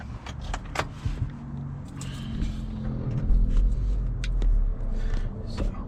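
A 2025 Audi Q3 is switched on. Soft clicks are followed by a low, steady engine hum that rises after about three seconds and continues at moderate volume.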